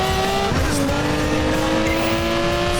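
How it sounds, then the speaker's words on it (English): Race car in Project Gotham Racing 4, a McLaren F1, spinning out: a loud, sustained engine drone with a gliding pitch shift and tire squeal throughout, close and continuous with no talking. "Oh, we spun her out. Lost a bit of ground to Sam, driving his McLaren F1."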